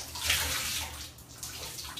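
A wet sponge is wrung out over watercolor paper, giving a close continuous trickle and splash of dripping water with a brief lull midway, no voices.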